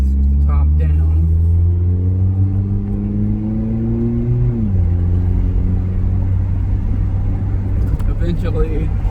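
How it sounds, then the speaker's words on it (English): Mazda Miata with the top up, steady loud engine drone with a falling pitch shift mid-clip as it shifts gears, broadband cabin wind noise throughout. "I'm trying this with the top up, by the way, just to see what the wind noise levels are like versus with the top down."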